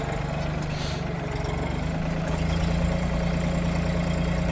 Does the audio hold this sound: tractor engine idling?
yes